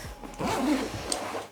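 A zipper is pulled along the main compartment of a Bellroy Lite carry-on bag, making one continuous close, moderately loud ripping rasp that rises briefly and trails off with a small click.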